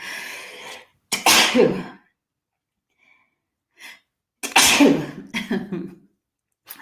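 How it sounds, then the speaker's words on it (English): Two loud sneezes burst out at close range during a live stream, each with a sharp breath before it and a breathy trail after, split by a stretch of silence, with faint breathing between them. "I've got to sneeze"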